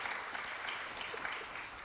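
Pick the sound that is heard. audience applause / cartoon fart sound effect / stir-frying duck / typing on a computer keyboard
audience applause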